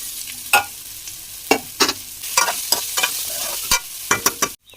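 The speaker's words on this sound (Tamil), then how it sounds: "இப்போ நம்ம ஊற வச்ச போஹா அவலை வந்து ஆட் பண்ணிக்கலாம்." Soaked poha tipped into a hot pan for aval upma and stirred, with a soft sizzle under repeated sharp scrapes and clinks of the spoon against the pan, close and irregular.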